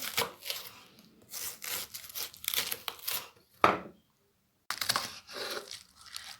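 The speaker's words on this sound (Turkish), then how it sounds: "Bu şekilde oldukça ince doğramamız gerekiyor." A knife chops rapidly through cabbage in quick crunchy bursts, pausing briefly before resuming, close up with no voices.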